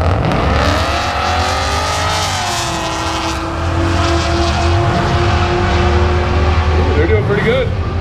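Porsche race cars roll racing side by side at Powercruise, engines roaring loud and close with rising revs and a shifting drone, while an announcer talks over them.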